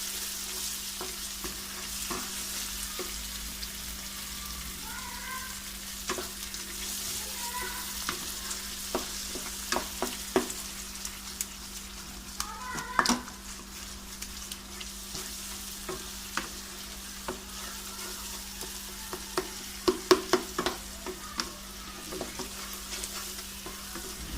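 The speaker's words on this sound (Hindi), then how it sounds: "ये ऑयल पर डालें वाली क्रीम है, आँच को हल्का रख के फ्लेम लो रख के।" Cream sizzles in oil over a low flame while making restaurant-style chicken angara gravy, a soft continuous frying hiss with scattered stirring clicks and small pops throughout, no voices.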